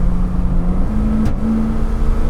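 A Jensen FF engine drones steadily at cruising speed around 3,000 RPM with a low, even hum, heard from inside the car, with a brief whoosh midway.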